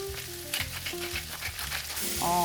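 Butter sizzles steadily in a frying pan on an induction cooktop, with occasional stirring scrapes and soft music underneath and no talking.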